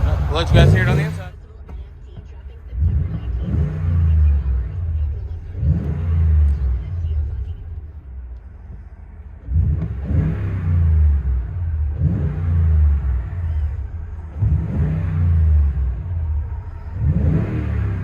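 Heard from inside the cab, a 2016 Toyota Tundra 5.7L V8 with a TRD true-dual cat-back exhaust gives a series of muffled, deep rev bursts, with a voice briefly at the start.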